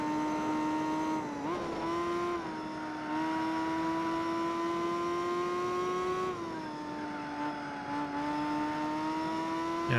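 Racing car engine in Gran Turismo 4 pulling hard uphill on nitrous, a sustained high whining drone that climbs and shifts pitch a few times over ten seconds.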